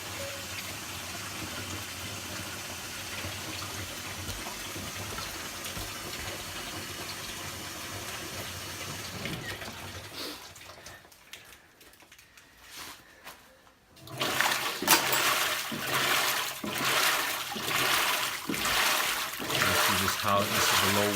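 Whirlpool top-load low-water washing machine filling with water, a steady rushing flow that drops away midway, then returns louder and brighter with splashing gush toward the end.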